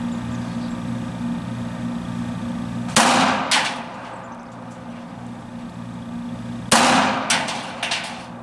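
Pistol shots from a S&W Shield 380EZ fired at a paper silhouette target: two quick groups of sharp, loud cracks with short ringing tails, separated by a few seconds of quiet outdoor background.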